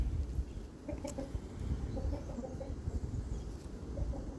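Hens cluck softly and steadily close by in an enclosure, a low murmuring chorus of short repeated clucks over a rumbling background.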